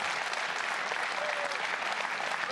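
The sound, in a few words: audience applause at esports event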